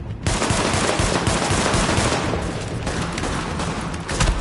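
Sustained rapid automatic gunfire in a PS4 shooter game, loud and dense bursts running almost continuously for several seconds with no talk over it.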